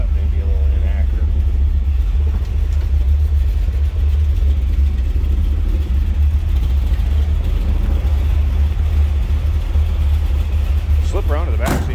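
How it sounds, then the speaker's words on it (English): A 1977 Chevrolet Corvette coupe sits idling with a deep, constant low rumble, heard close and steady throughout, with faint traces of a voice over the engine. "it doesn't sound like your stock 1977 Corvette. A little rumble to it."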